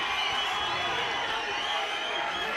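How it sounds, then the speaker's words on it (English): A boxing crowd at a West Australian title fight roars and cheers wildly, a dense sustained wall of shouting and whooping that stays loud throughout. "Wow, the crowd really going over the top here"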